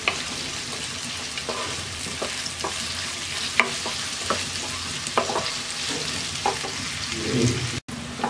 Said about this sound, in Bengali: এবার পেঁয়াজটাকে আমরা হালকা ভেজে নেব।